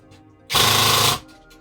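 An APS airsoft gun fires a single fast full-auto burst of about half a second, loud and close, with quiet handling noise before and after.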